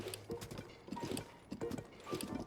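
Steady clip-clop of hooves from the horse Radiance ridden across open ground in Zelda: Tears of the Kingdom, a close, rhythmic galloping beat with a few louder strides, no talking.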